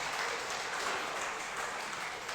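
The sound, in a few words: congregation applause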